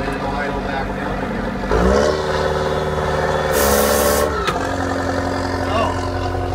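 A CTR saw engine running on the idle-up switch, revving higher in uneven surges with shifting pitch, loud and close, then settling back toward a lower idle, with a voice talking over it.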